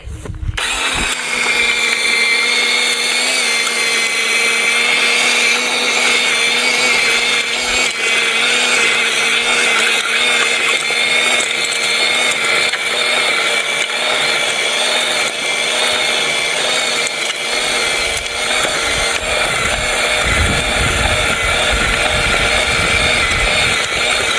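An MZK 20V battery-powered cordless tiller churns through garden soil, a loud, steady motor whine with a grinding buzz that holds nearly constant for the whole stretch, close to the listener.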